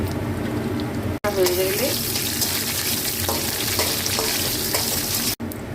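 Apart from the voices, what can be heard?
dried red chillies sizzling in hot oil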